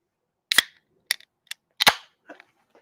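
Beer being opened and spraying out in sharp, hissing bursts: two strong pops with fizzing tails, a couple of smaller clicks between them, and faint rustling at the end.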